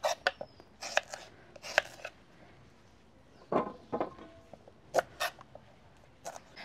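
Raw bananas being cut into pieces with a knife for a village-style kofta curry, sharp irregular chopping taps against a board, close and fairly quiet, in scattered clusters.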